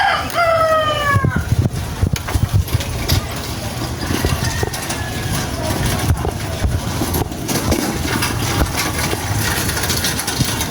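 A rooster crows loudly near the start, followed by a fainter crow and ongoing outdoor clatter and background noise.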